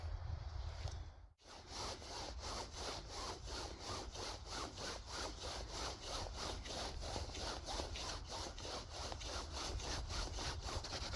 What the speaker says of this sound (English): now I've got to try and drill some holes